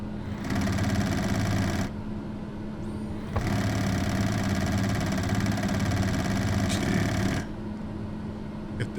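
Pilatus PC-12 turboprop engine in Microsoft Flight Simulator, a steady droning hum that cuts out briefly twice and resumes, sustained and fairly loud with no talking.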